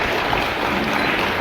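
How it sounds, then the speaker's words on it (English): An audience at a school's 78th Independence Day celebration applauds in a brief, full, steady burst of clapping with no talk over it. "Please give a huge round of applause."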